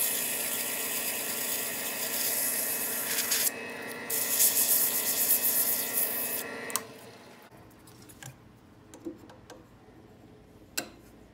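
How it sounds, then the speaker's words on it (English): Sandpaper rubbing on a wooden turning-tool handle spinning on a lathe, a loud steady hiss and whir that stops abruptly, leaving faint clicks and handling noises. "there is nothing wrong with finishing these off at sandpaper"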